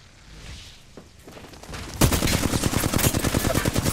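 Flatline rifle in Apex Legends firing a sustained automatic burst, rapid evenly spaced shots that erupt loudly after a quieter lead-in of distant action.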